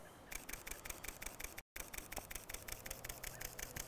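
Panasonic LUMIX S camera shutter firing in burst mode on a tripod while tracking a runner, a rapid even chain of crisp clicks with one brief gap.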